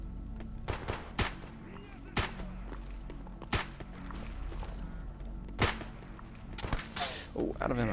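Sharp gunshots crack out in STALKER 2, a handful of loud, separate reports spread irregularly over a low droning game ambience, with a short quick burst near the end.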